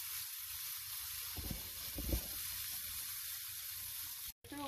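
Faint, steady sizzle and hiss from steak in a hot pan, with a couple of soft bumps midway and a brief dropout near the end.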